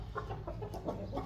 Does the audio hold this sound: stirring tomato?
no